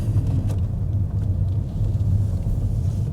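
Low steady engine rumble of a car pulling away and moving slowly through a car park, heard from inside the cabin, constant and moderately loud with no talking.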